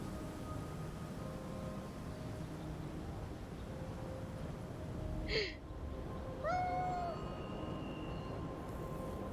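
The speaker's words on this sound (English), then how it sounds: "Teeny tiny ghost house cat, Chibi." Ghost house cat in a video game, two short soft meows in the middle over a steady low background hum, faint and fairly close.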